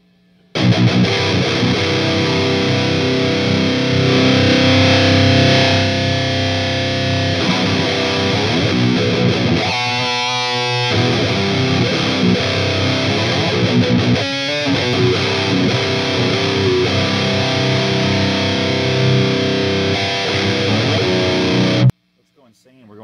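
A distorted electric guitar through an amp set to volume 4 and a Donner Emo attenuator plays continuously at a steady, dense level for about twenty seconds, then cuts off abruptly.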